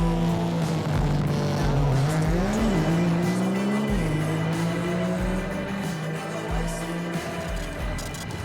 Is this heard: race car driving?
yes